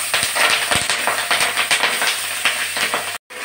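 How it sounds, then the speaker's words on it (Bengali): Spring onions sizzle in hot oil with salt and turmeric: a loud, continuous hiss and crackle close by, with a brief gap near the end and no voices. "এখন পেঁয়াজকলিটা দিয়ে দিচ্ছি।"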